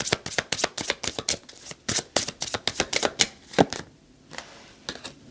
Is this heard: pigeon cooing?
no